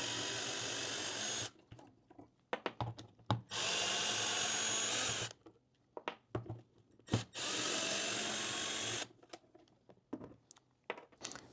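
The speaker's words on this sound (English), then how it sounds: "So now I can remove the 3 bolts." Three bolts being removed from an NB Miata steering wheel with a power driver or ratchet, two long whirring bursts and a third separated by sharp clicks and clatter, close and loud with no talk.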